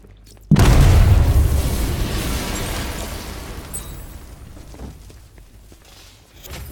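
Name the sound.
explosion from a detonation in the video game Batman Arkham Knight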